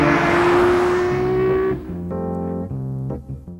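Vintage Ferrari race cars at speed, a loud high engine scream passing and fading, then lower revving engine tones shifting through gears with brief tire noise, no voices.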